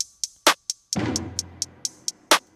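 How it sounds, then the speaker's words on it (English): Trap-beat hi-hat with a quarter-note delay and reverb, crisp ticks repeating in a steady pattern and echoing, while a low booming drum swell enters near the middle and rings out underneath. "I did a delay on the hi-hat"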